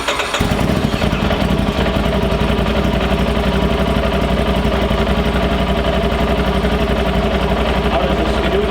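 A fuel-injected Polaris ProStar S4 Titan snowmobile engine idles steadily, loud and close, with an even continuous rumble and a brief rise as it catches at the start.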